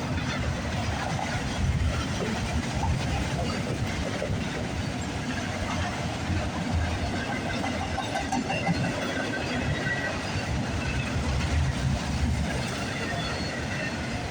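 A CN freight train passes at close range, a steady rumble and rattle of rail cars rolling along for the whole stretch, with faint voices now and then underneath.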